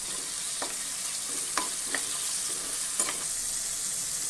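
Mustard seeds, fennel, green chilies and ginger fry in hot oil for a potato kurma, giving a steady bright sizzle with a few soft pops and stirring scrapes.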